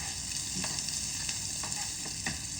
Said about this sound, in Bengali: জিরির ফোড়ন আর সরিষার ফোড়ন বেশ চটপট চটপট করে ফোটবে